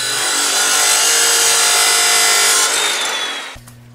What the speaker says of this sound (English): Now I'll cut the steel on my chop saw.